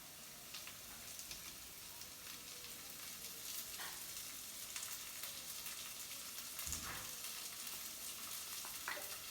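Corn tipped into a pan of sautéed onion sizzles and fries steadily, with a few louder crackles and stirring scrapes over a constant hiss.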